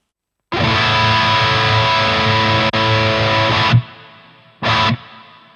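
A distorted electric guitar chord through a Mooer GS1000Li rings out, cuts off into a spacious hall reverb tail, then a second short stab echoes and fades.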